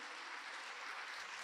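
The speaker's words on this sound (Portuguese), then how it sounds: "Aplauda o Senhor por isso." Church congregation applauding during a Portuguese-language sermon, a dense steady wash of clapping from many hands, sustained and even throughout, with no voices over it.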